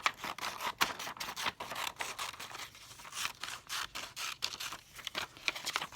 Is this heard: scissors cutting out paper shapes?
yes